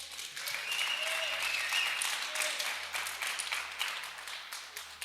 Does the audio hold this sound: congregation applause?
yes